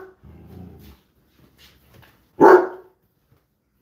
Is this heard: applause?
no